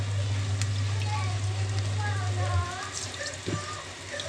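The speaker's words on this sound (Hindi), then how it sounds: "ऐसे छोड़ते जाना है तेल के अंदर। तेल आपका बहुत अच्छे से गर्म होना चाहिए" Dough drops sizzle and crackle in very hot oil, a steady close frying hiss with bubbling throughout, joined by a low hum and someone talking over it.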